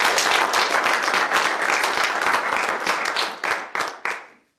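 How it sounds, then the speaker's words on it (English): A room of students at a weekly student government meeting applauds the senators, with steady dense clapping that thins into a few scattered claps before stopping. "A round of applause for our senators."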